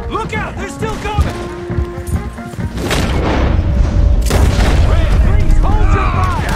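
Gunfire erupts during a horseback chase shootout in Red Dead Redemption 2: heavy booming shots and broadband blasts, a couple of sharp bursts standing out over a dense rumble, mixed under voices and score.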